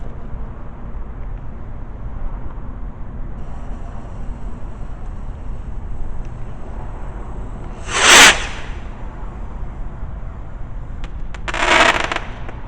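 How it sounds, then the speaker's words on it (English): A firework rocket set off at a school fireworks lesson: a steady hiss of background noise, then a sharp bright burst near eight seconds and a second softer whooshing burst near twelve seconds. "there's your rocket's gone off"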